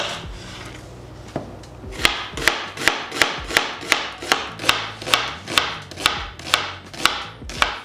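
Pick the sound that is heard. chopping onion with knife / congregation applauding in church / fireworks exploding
chopping onion with knife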